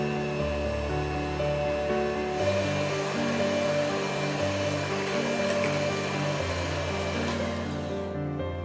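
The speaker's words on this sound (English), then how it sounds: "put bananas into a blender cup and blend them to make a puree" A blender whirs continuously and loudly, its motor pitch shifting slightly partway through as bananas are pureed, then cuts off at the end.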